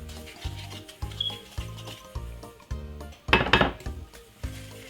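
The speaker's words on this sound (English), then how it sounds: "just simple cream it together like this until it gets really fluffy" A wooden spoon creams 4 ounces each of sugar and unsalted butter in a bowl, making regular, rhythmic scraping and knocking strokes about twice per second, close by, with one louder, brighter scrape near the end.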